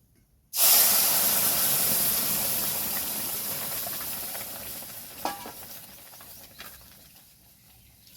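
Dal is poured into hot tempering with bay leaf for a village-style spinach dal. A loud, sudden sizzle bursts out, then slowly fades into a steady hiss, with a few faint clinks of stirring near the end.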